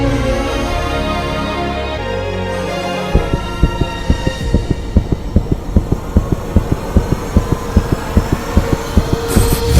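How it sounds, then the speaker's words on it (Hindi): A fast, regular heartbeat thumps steadily from about three seconds onward, the beats evenly spaced and machine-like under dense dramatic music. "पापा के दिल की धड़कनें इतनी तेज।"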